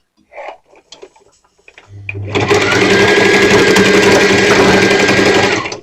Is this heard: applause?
no